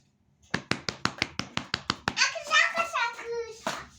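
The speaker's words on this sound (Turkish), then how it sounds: "Bravo. Alkış." A child's hands clap about ten times in a quick, even rhythm, close by, followed by a voice speaking.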